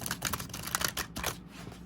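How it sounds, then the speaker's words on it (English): Tall tarot cards riffle-shuffled sideways in the hands, giving a quick run of crisp papery flutters and clicks in close succession, close and fairly quiet, with no talking. "so I just riffle them sideways"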